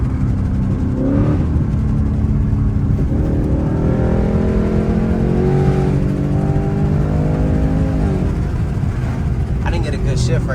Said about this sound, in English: Let's let down the window so you can really hear how the car sounds.